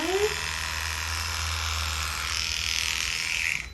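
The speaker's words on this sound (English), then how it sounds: "As I keep shaving her, I get to know the fur type" Electric clippers shave a dog's fur during a basic groom, a steady close buzzing hum that runs continuously through the short stretch and rises slightly near the end.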